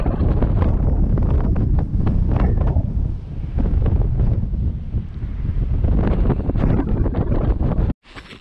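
Strong wind buffets the microphone in heavy, gusty roaring bursts throughout, cutting out briefly near the end.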